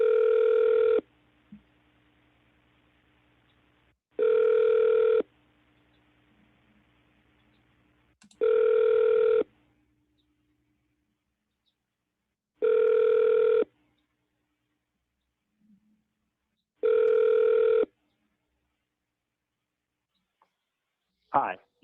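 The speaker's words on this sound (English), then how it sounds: "Dialing." Ringback tone on a call placed to a U.S. senator's office, five long evenly spaced rings about four seconds apart, clear and alone, with faint clicks between them.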